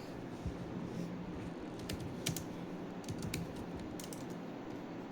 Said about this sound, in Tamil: ChatGPTல டைப் பண்ண போகிறேன், பாருங்கள்.